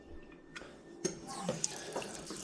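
Hands washed under a running kitchen tap at home: a short burst of water splashing close by, with a few small clicks and drips.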